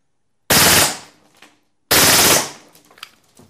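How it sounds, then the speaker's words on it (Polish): Two loud, rapid bursts of full-auto fire from a WE Glock 26 (G005) airsoft pistol with a short magazine, each lasting under half a second, with a pause and faint clicks between. "I ogień ciągły. Ale nie będzie to trwało zbyt długo."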